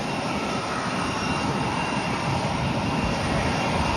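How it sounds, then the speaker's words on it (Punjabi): Loud, continuous roar of jet aircraft engines near Terminal 2 at Delhi airport, a broad steady rumble that holds without pause for the whole stretch. "ਇੱਥੋਂ ਜਹਾਜ਼ ਚੱਲ ਪਏ ਆਵਾਜ਼ ਦੇ ਕਿੰਨੇ"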